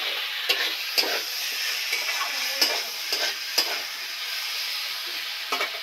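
Korai shaak greens fry in a pan, a steady broadband sizzle running throughout, broken by sharp scraping clacks as a spatula stirs them roughly every second or so, close and fairly loud with no voices.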